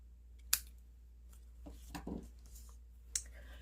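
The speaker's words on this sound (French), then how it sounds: "Je vais venir couper les petits coins." Scissors snipping the small corners of a handmade card, a few quiet, isolated crisp cuts spaced out over soft handling noises in a still room.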